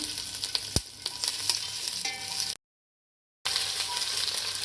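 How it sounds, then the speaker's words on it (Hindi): Capsicum frying in a pan, a close steady sizzle with stirring scrapes and a sharp clink, cut by a brief silent gap before the sizzling resumes. "अब इसमें हम शिमला मिर्च डाल के फ्राई कर लेंगे।"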